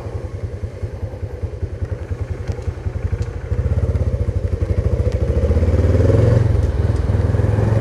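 A motorcycle with a custom SND block engine idles in a steady low putter, then revs up and holds a louder, rising drone close by during the test ride.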